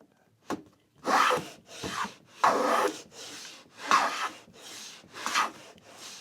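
A hand plane cuts along a wooden edge on a shooting board in about eight rhythmic rasping strokes, each a short scraping burst with brief pauses between, close and clear.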